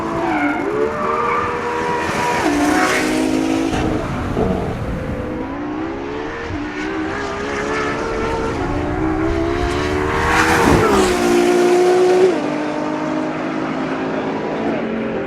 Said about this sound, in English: Driving the LaFerrari at Fiorano, however, is not likely to be one of those occasions.